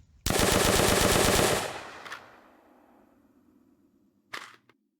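Rapid automatic gunfire from a weapon in an Unreal Engine zombie shooter game, a loud sustained burst lasting over a second as the magazine empties, then fading tail and a short mechanical click near the end.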